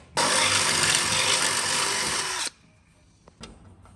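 A power drill whirs loudly and steadily for about two seconds, then stops abruptly, leaving quiet room tone with a couple of faint clicks.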